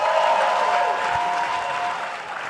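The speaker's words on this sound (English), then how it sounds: "Give them a big round of applause," An audience at 92nd Street Y applauds guests at a Wu-Tang: An American Saga panel, a dense burst of clapping that fades gradually over a couple of seconds, with a faint sustained tone underneath.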